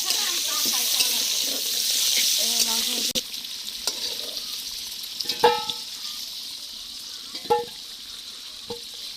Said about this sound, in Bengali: আলু ভাজা হয়ে গেল, আলু কষানো।